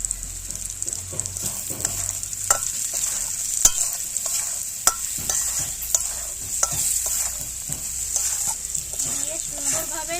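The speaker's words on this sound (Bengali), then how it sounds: "দিয়ে সুন্দরভাবে নেড়ে চেড়ে নেব" Spices with salt and turmeric being stirred in a hot pan for egg malai curry, a continuous bright sizzle broken by repeated clinks and scrapes of a spatula against the pan.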